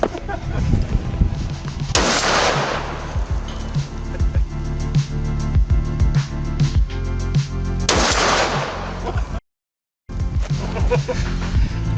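Two loud gunshots ring out a few seconds apart, each a sharp blast with a booming tail, while people chatter and move around close by between the shots.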